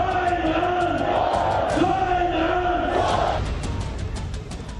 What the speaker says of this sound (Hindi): ये भीड़ जब इमरान खान के खिलाफ नारे लगाती हुई सड़कों पर उमड़ पड़ी